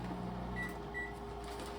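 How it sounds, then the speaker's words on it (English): A microwave oven in a home pantry area, set off by accident, gives two short electronic beeps close together over a steady low room hum. "I got so much stuff I even set off the microwave"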